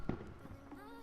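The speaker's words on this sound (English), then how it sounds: "As dusk falls, fireworks bloom in the distance" Distant fireworks in the Love and Deepspace video game at dusk: a couple of soft, muffled pops over a quiet musical backdrop.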